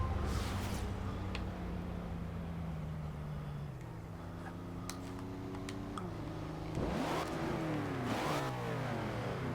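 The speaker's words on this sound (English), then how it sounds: "we can rev even higher now. Sounds so nice." A 1963 Chevrolet Corvette C2 engine in Forza Horizon 2 revs and holds steady, its pitch rising and falling, then climbs sharply in a couple of quick throttle blips near the end.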